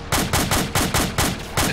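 Rapid automatic gunfire in the combat video game ArmA 2, with seven loud, evenly spaced shots in under two seconds. The bursts are sharp and close, and no one speaks over them.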